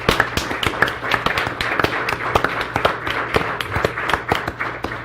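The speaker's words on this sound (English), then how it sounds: "Let's give them one last round of applause for this." Audience applause for students at a school board general session, a sparse room of claps with sharp irregular hits and no talk over them.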